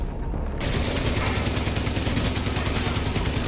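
In The Division video game, an air pistol fires a long rapid stream of evenly spaced shots, loud and close, continuing without pause after a brief lead-in, with no talking.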